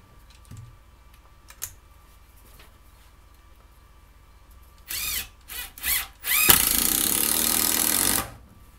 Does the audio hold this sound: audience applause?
no